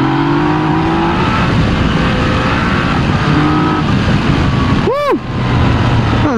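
A 2019 Yamaha Tracer 900 GT three-cylinder motorcycle pulling hard under acceleration, loud rising engine tones over heavy wind rush, with a brief swooping whine near the end.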